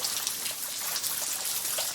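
Rain falling and trickling in a constant wash of close, even patter around a capuchin monkey playing outdoors, no speech.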